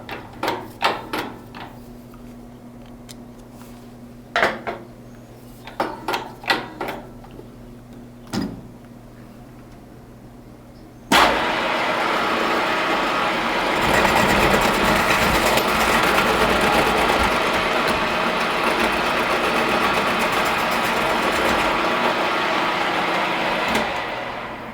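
Metal machining pass taking a 20 thou cut, starting with scattered knocks and clunks, then a steady loud grinding, whirring cut that runs continuously for the rest of the stretch.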